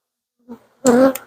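Honeybees from a captured swarm being moved into a hive give a faint brief buzz, then a louder, fuller hum lasting about a quarter second, close by.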